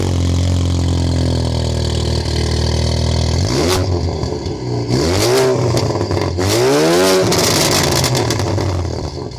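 A loud, throaty car engine rumbles at idle through an enlarged aftermarket dual exhaust, then revs up and down in several deep surges.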